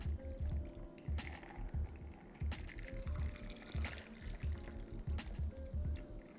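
A strained apple pie cocktail is poured and divided among glasses, with soft, close liquid trickles and splashes coming in short bursts, fairly quiet and with no talking.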